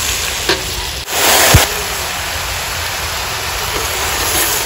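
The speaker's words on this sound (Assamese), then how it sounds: "মোৰ মাংসখিনি ধুনীয়াকৈ তেল ওলালে এয়া মস্ত ডাঙৰ কেৰাহীত বনাই দিছোঁ" Meat fries in oil in a large kadai, giving a loud, continuous close sizzle, briefly interrupted by a clatter and a burst of louder hissing about a second in.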